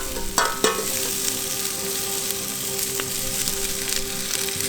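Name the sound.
Thai-style red curry sauce from Trader Joe's cooking in pan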